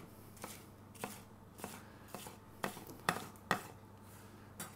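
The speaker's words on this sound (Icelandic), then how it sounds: "Skerum þetta í jafnstóra bita." Knife chopping food on a cutting board into equal pieces in a home kitchen, about ten sharp, irregularly spaced cuts over a quiet background.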